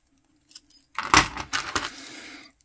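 A bunch of keys is set down and jangles with a bright metallic rattle, starting with a few light clinks and then a louder burst of ringing jangles that fades out after a couple of seconds.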